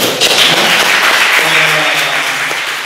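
An audience applauds for Manuel Bernal during a class session of a course, a dense, steady wash of clapping lasting several seconds with a faint voice murmuring beneath it.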